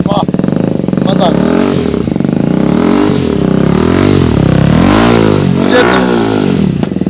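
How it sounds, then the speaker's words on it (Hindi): Loud TVS Apache RTR 310 motorcycle fitted with an Akrapovic titanium full-system exhaust, revving repeatedly with rising and falling engine pitch throughout, someone talking over it. "और अब सुनाते हैं एक्रोपोविक का टाइटेनियम वाला एग्जॉस्ट, वाह मजा।"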